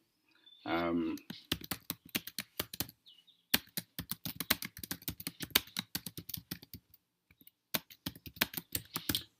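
A computer keyboard is typed on in quick, irregular bursts of crisp key clicks close to the microphone, with short pauses between runs as a book title is entered.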